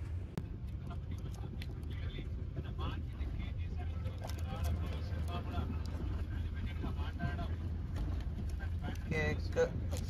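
A bus rolls along a highway past Eluru on the way to Tirupati, heard from a passenger seat: a constant low engine and road rumble with rattles and wind, while a voice talks over it throughout.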